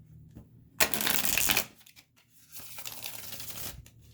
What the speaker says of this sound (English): Shuffle for the camera.